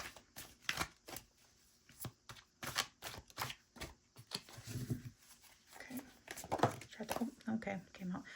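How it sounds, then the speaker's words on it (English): Tarot cards riffled and shuffled in quick bursts of papery flapping, close by, with a person talking softly over parts of it. "when I changed my shuffling style, it came right out"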